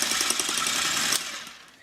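An electric mixer whirs loudly and continuously as it whips egg whites in a mixing bowl for cake pops, then winds down and fades near the end.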